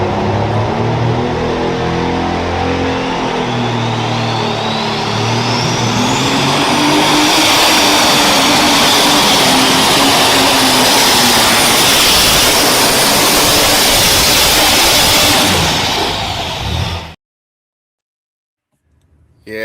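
A pulling tractor's engine roars at full throttle on a championship tractor pull pass, a very loud, sustained blast with a rising turbine-like whine, then it cuts off abruptly to silence.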